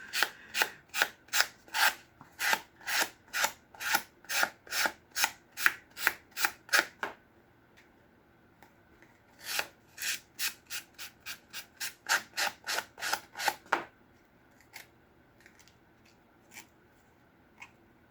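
Rapid rhythmic rasping strokes of a sanding block rubbing along paper edges, a long steady run, a pause, then another burst, close and dry.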